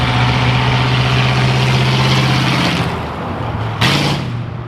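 A Porsche Turbo S idles loudly and close by, a deep steady rumble holding a constant low hum, dipping slightly near the end before a brief sharp blip.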